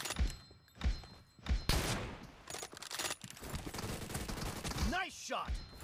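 Gunfire in the mobile shooter BGMI/PUBG Mobile, several sharp shots in the first seconds and then a denser spell of firing, mixed with in-game voice lines and other game sounds.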